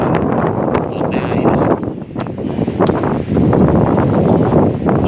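Strong gusting wind under a dark, overcast sky around a house, roaring and buffeting the microphone in loud, uneven surges throughout, with no voices heard.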